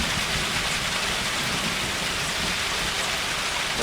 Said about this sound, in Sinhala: මහවැස්සේ ඇති වූ අකුණු ගැසීමට